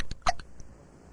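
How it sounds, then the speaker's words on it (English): A cartoon boy's hiccups, a sharp, loud burst of hiccuping with quick clicky catches in a tight cluster near the start, then a faint trailing sound and quiet. "This is the worst case of hiccups we've ever treated"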